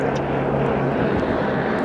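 A helicopter flies near Kedarnath in the Himalayas, giving a loud, steady engine and rotor drone with a low hum throughout and no speech.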